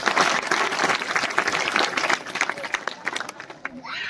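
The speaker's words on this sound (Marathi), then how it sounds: "टाळ्या वाजवा पुन्हा एकदा त्या ताईसाठी" Loud, sustained applause from a crowd, dense clapping throughout that thins slightly toward the end.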